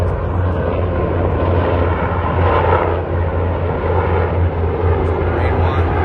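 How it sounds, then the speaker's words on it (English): Two helicopters fly in near the Lincoln Memorial at night, one of them Marine One, producing a loud, continuous low rotor and engine rumble that swells slightly midway. Voices can be heard beneath it. "We got 2 helicopters coming in."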